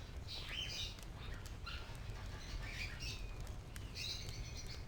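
Aviary ambience from the game Baldur's Gate 2: small birds chirp and tweet in scattered high bursts over a steady low background hum, with occasional soft wing flutters, moderately distant and with no talk.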